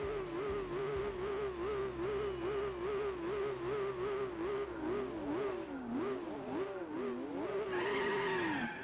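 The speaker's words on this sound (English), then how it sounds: "There's the wheel spin." Race car in Gran Turismo 4 spinning its wheels, with a loud, steady engine drone and long wavering tire squeal that swoops up and down, rising higher near the end; no voices.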